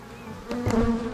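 Honeybees from a new swarm buzz close by during a Buckfast queen introduction, a dense humming drone that swells briefly as a bee passes near.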